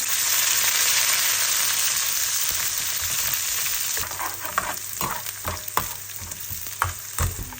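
Mustard seeds and coriander leaves sizzle loudly in hot oil for a savory khaman dhokla tempering, a dense steady crackle with sharper pops and stirring clinks growing more frequent toward the end.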